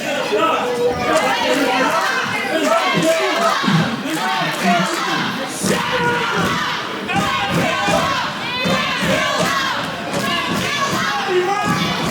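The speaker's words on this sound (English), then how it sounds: "this crowd absolutely erupted for 6 feet of glam and a whole lot of damn" A wrestling crowd at an intergender tag match roars and cheers loudly, a dense wall of shouting and chanting voices with scattered thuds, sustained and close throughout.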